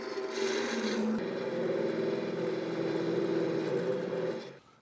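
A parting tool cuts the top off a turned wooden canister spinning on a Laguna 1216 midi lathe, a steady loud rasping scrape with a humming motor tone, ending abruptly as the cut finishes.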